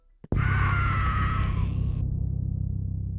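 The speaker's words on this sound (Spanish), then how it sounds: "Un último grito, ahogado por el terror, escapó de mis labios" A single terrified scream for a horror story about death approaching with a rusty scythe along a spectrally lit corridor: it bursts out loud after a brief pause, holds for under two seconds, then cuts off, leaving a low dark rumble.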